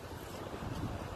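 Steady wind rushes and buffets the microphone in a low, continuous roar over Seabra, Bahia, Brazil, with no voices.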